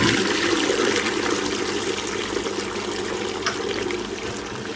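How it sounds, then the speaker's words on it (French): Toilet flushing, a rushing gush of water that settles into a steady trickle and swirl, close and gradually fading. "donc je vais tirer la chasse"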